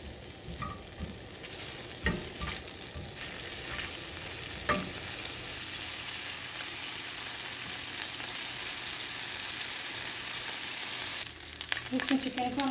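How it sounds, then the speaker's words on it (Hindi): Garlic fries in a little oil in a pan, giving a steady close sizzle with occasional stirring scrapes throughout. "थोड़ा सा ऑयल डालेंगे हम इसमें और लहसुन के जवा डाल दिए। इसको फ्राई करेंगे"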